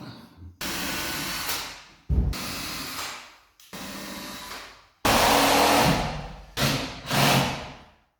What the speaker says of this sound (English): I've got a drill bit here and I've put some masking tape to show me when I'm drilling it when to stop